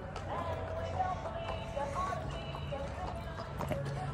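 Horse hooves clip-clop at a steady walking pace in an arena, moderately distant, with voices and faint background activity around them.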